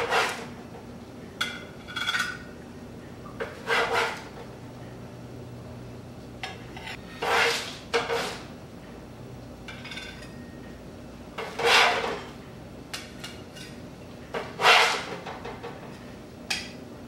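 Homemade rainbow cookies set one by one onto a serving dish in a home kitchen, heard as soft, close clinks and scrapes that come in short, separate bursts over a quiet room background with no talking.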